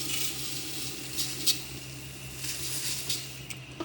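Meat and polao rice sautéing together in a pot, with a continuous close sizzle and occasional soft scrapes and taps of a spoon against the pot, no voices.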